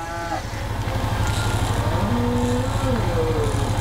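A cow moos in the Lego Jurassic World video game, a drawn-out lowing call heard loud and close over a steady rumbling game background.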